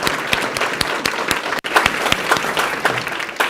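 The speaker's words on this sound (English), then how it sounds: "So they need a round of applause for everything that they did." An audience at a school board meeting claps for the pastors, a moderate round of applause with distinct individual claps, briefly dipping midway before continuing.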